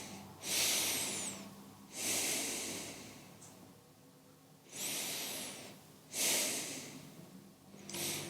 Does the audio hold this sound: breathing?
yes